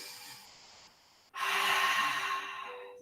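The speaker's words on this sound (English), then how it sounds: "Deep breath." Deep breathing during a yoga session at rest: a soft, airy exhale fades, then after a brief pause a louder, fuller breath swells close by and slowly tapers, heard alone without talk.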